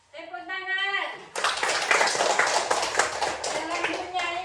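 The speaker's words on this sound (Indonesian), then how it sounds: "Tepuk tangan" A class of third-grade primary school children claps hands together in a burst of dense, fast clapping after a teacher's spoken prompt. The applause fills the room up close and fades out over a few seconds.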